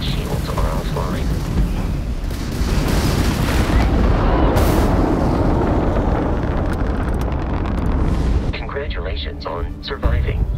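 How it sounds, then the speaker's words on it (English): Ballistic weapons fire during Starfield starship combat, a dense continuous barrage of rumbling booms under a roaring wash of noise, with a voice speaking near the end. "Ballistic weaponry excels at damaging the hull once shields are offline."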